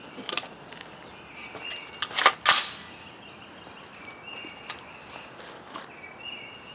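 A single subsonic 9mm round, a handload with a 162-grain bullet over Hodgdon 700X powder, fired from a carbine: one short, fairly subdued crack outdoors, with faint ticks and light background noise around it.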